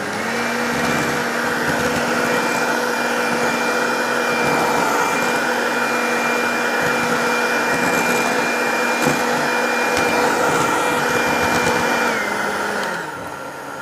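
An electric hand mixer whisks eggs at maximum speed for a sponge cake batter, giving a loud, steady high-pitched motor whine that runs unbroken before winding down at the very end.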